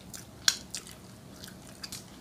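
Crisp bites into steamed shrimp with crunchy roe, one sharp crunch standing out amid softer chewing and mouth sounds, close and fairly quiet.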